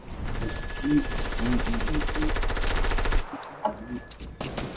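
SMG fire in Fortnite rattles in a fast, continuous automatic burst for about three seconds, then stops and comes back briefly, loud and close, with a voice speaking under it.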